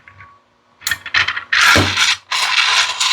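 Plastic parts of an FTEC2 AMR blaster's bolt assembly click and ratchet into place, a faint tick first, then a run of close, sharp mechanical snaps and grinding clatters building to a loud sustained rattle.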